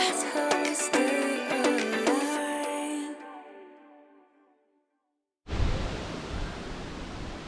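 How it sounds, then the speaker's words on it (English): Heavy thunderstorm rain roars in suddenly as a steady broadband wash after a stretch of fading music and a moment of silence. "Thunderstorms, crazy amount of water."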